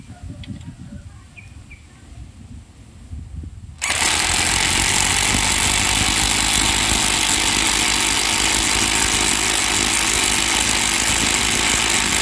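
A Makita cordless impact driver drives a 10 cm screw into mahogany, starting abruptly after a quiet stretch with faint outdoor birds, then a loud, sustained, even buzzing hammer that runs uninterrupted for over eight seconds, close up.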